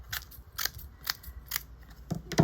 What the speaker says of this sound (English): So we'll just cut up some green pieces,